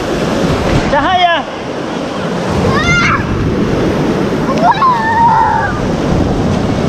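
Ocean surf rolls and breaks on a beach, a loud continuous wash mixed with wind buffeting the microphone, while a few voices and children's calls rise briefly above it.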